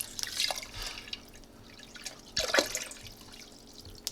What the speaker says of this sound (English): You can already hear it trickling.